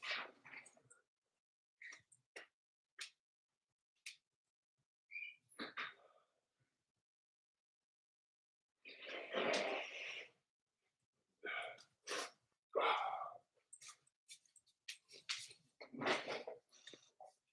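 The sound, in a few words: nose blowing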